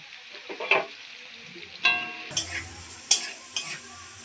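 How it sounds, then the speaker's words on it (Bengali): Onions sizzle in hot oil in a pan while a spoon stirs them in several sharp scraping strokes over a steady frying hiss. "পেঁয়াজটা আমি একটু লাল করে ভেজে নেবো"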